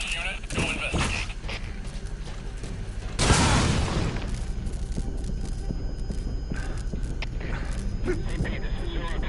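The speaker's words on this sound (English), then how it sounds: "Explosion spotted." An explosion in the video game Metal Gear Solid V, a single heavy boom with a rumbling tail that bursts out mid-scene over a continuous noisy game soundscape and radio chatter.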